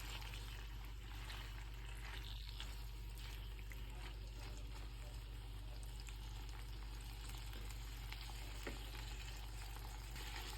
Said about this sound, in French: on va laisser mijoter 2 petites minutes, même pas, le temps que la sauce soit bien liée